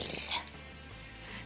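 Game dog growling in Shin Megami Tensei 3 Nocturne, a brief snarl over a low, looping background rumble, faint and short.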